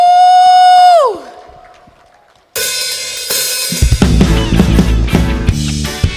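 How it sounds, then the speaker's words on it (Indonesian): Congregation applause during a Sunday church worship service: a dense wash of clapping bursts in after a held musical note fades, with band music building underneath. "Yang bersuka cita boleh berikan tepuk tangan buat Allah kita."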